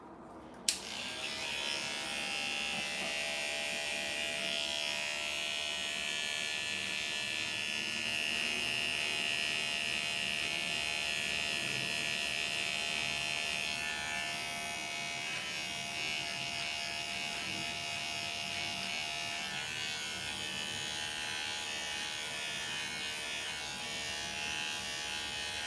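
Electric hair clippers buzz steadily and close up while trimming a beard with the lever open. The drone is continuous for about twenty-five seconds after a brief click at the start.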